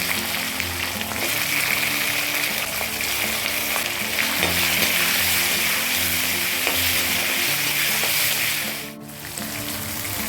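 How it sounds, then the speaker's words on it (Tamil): Tomato, onion and garlic being sautéed in sesame oil, frying with a loud continuous sizzle and crackle under repeated stirring scrapes, the hiss dipping briefly near the end. "இது எல்லாத்தையும் இப்போ நல்லெண்ணெயில் போட்டு வதக்கி எடுத்துப்போம்"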